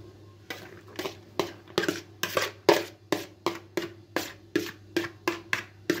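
Chopped coarse onion pieces dropped one by one into a baking tray for a chicken dish, making a quick series of about a dozen sharp, evenly spaced clatters and taps close up, with no other sounds.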